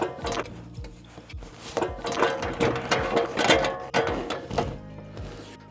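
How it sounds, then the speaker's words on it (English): A CyberRack E2 ebike rack is pushed into a 2-inch hitch receiver, giving close, loud metallic scraping, clunks and ratcheting knocks in an irregular run with no talk. "we're going to take our CyberRack E2 and plug it into our 2-inch receiver"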